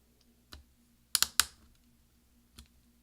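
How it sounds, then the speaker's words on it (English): Replacement V key on an early 2011 13-inch MacBook Pro keyboard pressed down into place, giving a few sharp, close plastic snaps and clicks in an otherwise quiet room. "we're going to push down with our finger until we hear several snaps."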